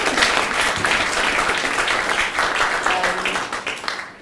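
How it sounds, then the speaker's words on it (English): An audience applauds a mother and her 16-year-old daughter after their first joint music performance, with sustained, fairly loud clapping and some crowd noise filling the whole moment. "That deserves a round of applause."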